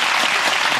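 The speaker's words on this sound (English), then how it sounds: "A round of applause." Studio audience applause on a 2006 ITV1 car-haggling programme, a steady dense wash of many hands clapping at once, loud and close with no pauses.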